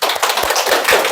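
An audience at a Korean Dharma talk on Seongcheol's Seonmun Jeongno at a meditation center breaks into applause: dense, loud, close clapping filling the whole moment.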